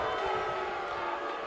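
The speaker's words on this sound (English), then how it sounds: "crowd here just booing Tori Crawford" A crowd in the WWE 2K19 wrestling game boos wrestler Tori Crawford during a Universe Mode match, a brief, steady, dense roar of many voices at moderate volume.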